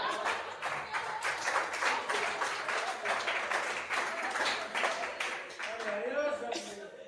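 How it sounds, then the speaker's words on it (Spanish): Church congregation clapping in praise to the Lord, a steady wash of many hands for several seconds that thins out near the end as a voice begins speaking. "Démosle el aplauso al Señor."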